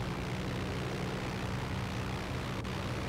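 Steady droning engine of an aircraft flying in the Garry's Mod game, a continuous loud low rumble with a brief click near the end and no talk.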